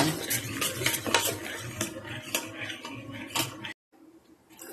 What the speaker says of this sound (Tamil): நல்லா மசிச்சுக்குங்க.